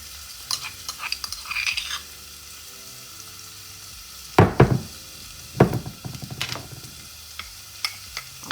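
Garlic, pimento seed and cloves sauté in a pan for Jamaican rice and peas, with a low steady sizzle broken by a few louder scraping stirs near the middle and end, background music faintly underneath.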